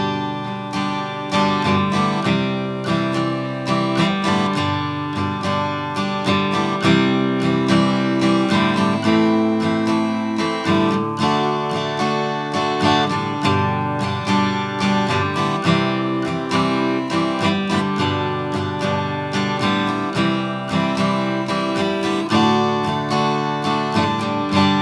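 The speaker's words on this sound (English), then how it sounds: "I'm going to go from a fifth degree chord back to the tonic." Sustained chords in a finished cadence move from the fifth-degree chord back to the tonic, played as steady, full instrumental music with no talking.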